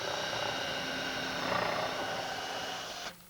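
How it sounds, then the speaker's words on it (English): A power drill bores a small pilot hole in wood during a pool table build, giving one steady, close whine for about three seconds that rises slightly and then cuts off abruptly. "I'll pop a little pilot hole in it."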